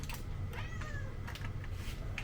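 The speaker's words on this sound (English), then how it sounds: "looks like my cat's giving me a hard time" A pet cat meows a few times at close range over a steady low hum, with a faint tapping like keys in the background.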